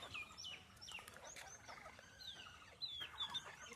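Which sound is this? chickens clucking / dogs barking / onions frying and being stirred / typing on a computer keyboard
chickens clucking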